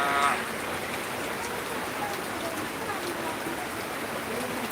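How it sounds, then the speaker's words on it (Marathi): Steady rain falls in an even, continuous hiss, moderately loud. A brief tonal chirp sounds at the very start. "पावसाला सुरुवात झालेली आहे"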